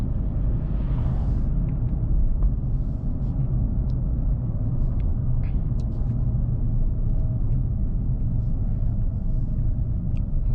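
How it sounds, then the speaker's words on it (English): Synthesized engine sound of a 2025 Mercedes-AMG E53 sedan played through the cabin speakers while driving, a steady low rumble with road noise that holds evenly throughout, with no talking. "Even though we have the engine sound, which also comes from the speakers like in every new car, it actually doesn't bother me"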